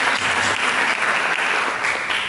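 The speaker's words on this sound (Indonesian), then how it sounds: "Mari kita berikan tepuk tangan yang meriah bagi Yesus" Loud, enthusiastic clapping from a church congregation during worship, a continuous thick roar of many hands with slight surges, filling the space without any voices.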